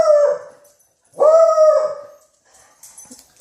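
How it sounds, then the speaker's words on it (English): A small female dog gives two loud, drawn-out, whining barks close by, aimed at sandhill cranes, followed by a fainter yip. "Why are you barking, little girl?"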